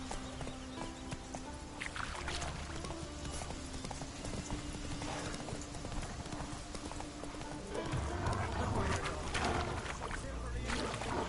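Horse hooves in The Witcher 3 clatter in a fast, steady clip-clop gallop throughout, close and continuous over ambient game sound, growing louder near the end.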